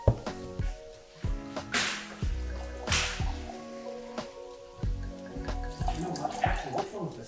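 Dalmore single malt whisky is poured into a glass in one long stream, with gurgling liquid and a few bright clinks, fairly close and clear.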